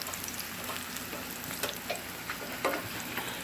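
Tortilla strips for migas frying crispy in a pan, a steady close crackling sizzle with occasional light stirring scrapes, and no one speaking.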